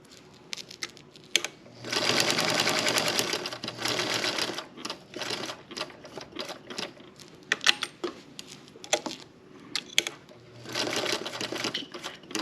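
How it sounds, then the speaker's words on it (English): A sewing machine stitches around the edges of a baby bib in bursts of rapid mechanical whirring, stopping and starting between runs with small clicks in the pauses. "And I just sew that in a square around the edges."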